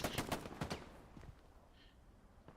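A machine gun fires in a World War II video game on the Elsenbourn Ridge map, a fast burst of close shots at the start followed by scattered fainter bursts and a few more near the end.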